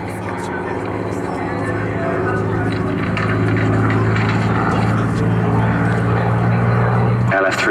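Hawker Hurricane fighter plane, built at the Hawker factory in Langley, flying a display at Southport Airshow, its propeller engine droning steadily and swelling louder over several seconds while an announcer talks over it.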